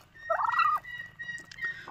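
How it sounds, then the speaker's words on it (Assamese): A single close, loud gobble from an American Royal turkey on a bird farm, a rapid warbling burst followed by fainter bird calls in the background. "এইটো হৈছে আমেৰিকান ৰয়েল টাৰ্কি বাৰ্ড।"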